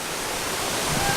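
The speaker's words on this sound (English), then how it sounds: "we made it to the first set of falls, and as expected with all the rain, it's blowing pretty good" Waterfall roaring at full force after heavy rain, a steady broadband rush of falling water close by, continuous and loud throughout.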